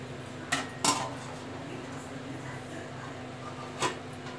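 A few sharp metallic clinks ring out, two close together early and one more near the end, as a lid is set onto a pot of fish curry in a quiet kitchen.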